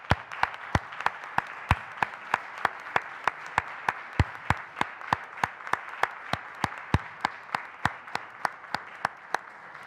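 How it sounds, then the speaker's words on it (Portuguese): A single person clapping slowly and evenly at a municipal assembly meeting, about two to three claps per second, crisp individual hand claps standing alone in a quiet hall. "eu pelo menos vou bater uma salva de palmas ao Vítor Castela"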